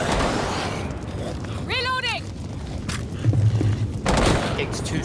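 Shotgun blasts in Rainbow Six Siege Outbreak mode, a couple of heavy booming shots amid game noise and a chirping tone, with talk over them.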